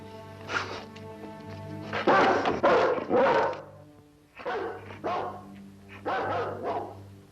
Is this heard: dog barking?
yes